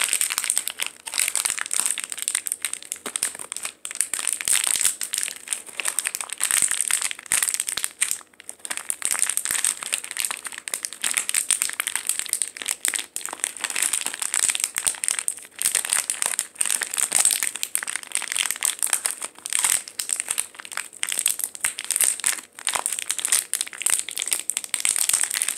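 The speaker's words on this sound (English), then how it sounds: "I love the way this paper sounds." Crinkly paper packaging from LOL Dolls being handled close up, a steady, continuous rustling and crackling that runs without pause for the whole stretch, with no talking over it.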